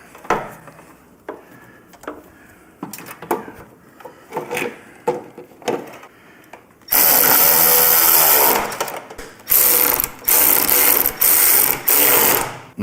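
A ratchet wrench tightens 9/16 fittings on an air compressor being installed on a 2024 Harley-Davidson Touring motorcycle, first as quick separate clicking strokes and then as long, loud buzzing runs of ratcheting close by.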